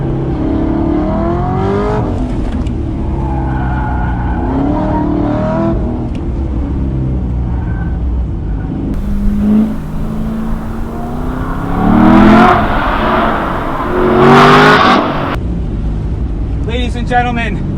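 LS3 V8-swapped Mazda ND Miata accelerating out of a corner at Lime Rock race track: a loud, close engine roar that climbs steadily in pitch through the gears, heard from inside the car.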